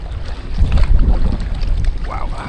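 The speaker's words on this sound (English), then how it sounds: "Yeah, the wind's a little bit feisty here." Gusty wind buffets the microphone out on the River Bure during a kayak trip, a loud, close, rumbling roar with uneven surges that continues throughout.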